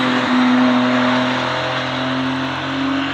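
A 720hp Novitec McLaren Artura supercar with a race exhaust drones loudly and steadily at close range as it pulls away, its engine tone holding with slight rises in pitch.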